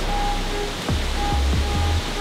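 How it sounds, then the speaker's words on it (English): A shower running in a steady, close wash of spraying water, with a few faint low thumps partway through. "My first shower in almost 5 days."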